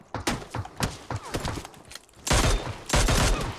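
Gunfire in PUBG Mobile, rapid bursts of close, loud shots in quick succession, followed by two heavier sustained volleys, with no talk over them.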